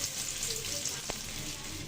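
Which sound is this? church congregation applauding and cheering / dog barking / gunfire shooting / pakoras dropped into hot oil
pakoras dropped into hot oil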